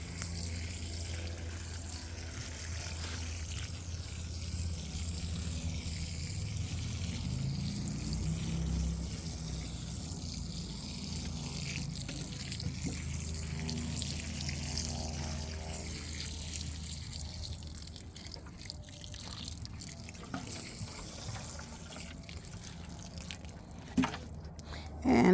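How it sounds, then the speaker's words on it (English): A steady rush of water from a hose pours and splashes onto plants in garden beds continuously at moderate volume for the whole stretch. "I'm not gonna water them too heavy"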